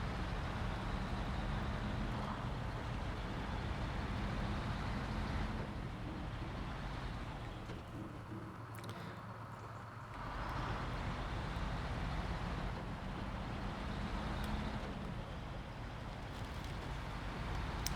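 Rear-wheel drive truck in the video game SnowRunner, its engine a steady, close, droning rumble that runs throughout, easing briefly in the middle before picking back up, with no talk over it.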